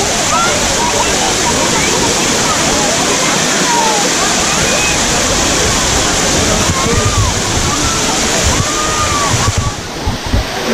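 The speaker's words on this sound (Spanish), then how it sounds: "tanta fuerza al agua que se eleva muchísimo y salpica" A powerful fountain jet at the gardens of La Granja de San Ildefonso, Segovia, roars and splashes continuously nearby, with faint voices and birdsong in the background.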